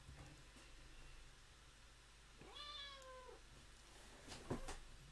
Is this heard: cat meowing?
yes